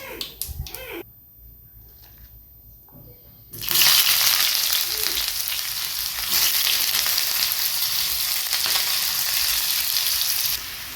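Sliced onion frying in hot oil with mustard seeds and cumin in a pan until browned, a loud steady sizzle that swells abruptly after a quieter start and continues without speech.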